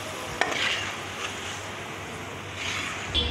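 A paste of ginger, garlic, onion and cumin frying in a pan with salt, heard as a steady close sizzle with stirring scrapes and a sharp utensil knock near the start, and no one speaking.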